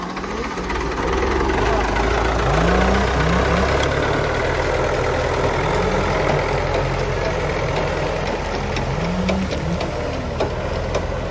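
Ford 4600 single-axle tractor engine idling with a steady low rumble throughout, part of a convoy hauling firewood, with faint voices in the background.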